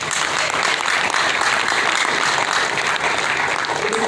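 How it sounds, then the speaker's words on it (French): Loud, dense applause from a large audience at a press event announcing a stadium concert, steady and continuous throughout with crowd noise mixed in. "Si on peut applaudir pour eux."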